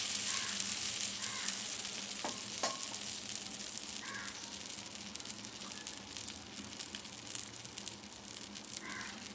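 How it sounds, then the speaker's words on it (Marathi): Semolina amboli batter sizzles steadily in a pan on the stove, a constant close hiss with a few faint taps of a utensil and no talking. "असं आपण परतून घेतले"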